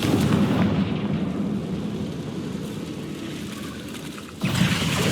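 Confringo spell explosion in Hogwarts Legacy, a heavy booming blast that rumbles and fades over several seconds before a second sharp burst hits near the end.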